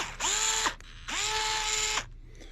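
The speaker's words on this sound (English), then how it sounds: "the screw gun." A cordless screw gun, used for boat maintenance, revs twice in a garage. Each run is a steady, fairly loud whirring burst of about half a second to a second, with a short gap between them.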